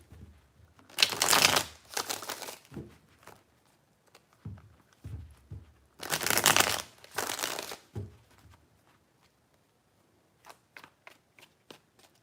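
Tarot cards shuffled in two long riffling bursts with softer handling and taps between them, close and moderately loud, with no talking.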